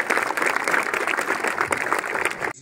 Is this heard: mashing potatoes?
no